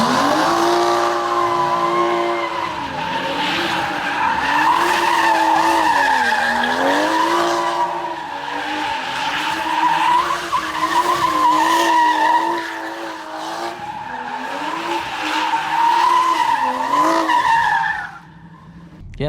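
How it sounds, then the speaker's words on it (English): A BMW 440i spins in tight donuts, its tires squealing in a long continuous wail that rises and falls with the engine over nearly twenty seconds, fading out at the end. "Yeah, that's me doing donuts, you guys."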